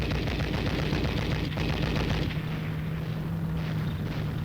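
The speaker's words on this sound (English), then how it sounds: "heavy automatic fire forces the rifleman to take cover" Heavy automatic fire from machine guns and rifles in battle, a dense continuous roar of rapid shots with a low steady drone underneath, loud and unbroken throughout.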